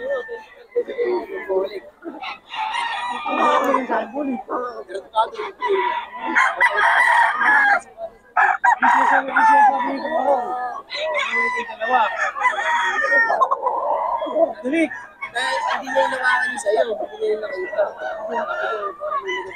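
Roosters crow and chickens cluck at a busy fowl market in Bocaue, with many overlapping calls running steadily throughout and people talking nearby.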